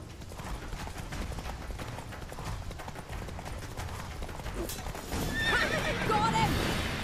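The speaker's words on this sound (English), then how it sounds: "Grab a horse, we'll chase him down." Galloping horses in a chase in The Witcher 3, hooves pounding under game music and sound effects, with a whinny rising clearly near the end.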